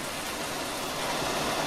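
Steady rain in Farming Simulator 19 hisses as a dense, even wash of noise, loud and continuous with no other sounds.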